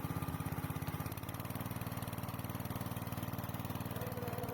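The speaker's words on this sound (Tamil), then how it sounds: "நீங்கள் இன்ஜின் சவுண்டை பார்க்கலாம்." A 6.5 HP petrol water pump engine runs steadily at a fast, even idle-like chug, loud and close, with a constant rhythmic drone and no voices.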